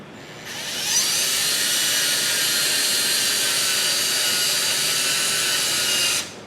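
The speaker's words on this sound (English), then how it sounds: "you're going to get this when you turn the drill on" A power drill whines loudly and steadily at high speed for several seconds while turning a wooden saltcellar, starting up abruptly and cutting off at the end, with no talking.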